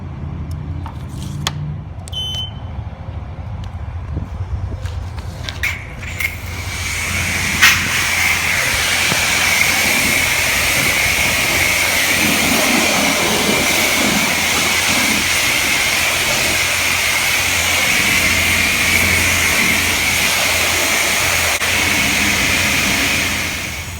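A pressure washer sprays a car at a coin-operated car wash. A loud, steady hiss of water starts after a few seconds of quieter clicks and handling noise, then runs continuously to the end.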